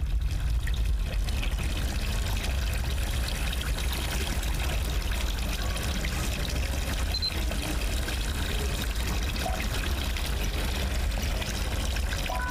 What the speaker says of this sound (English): Normally that sink is not on.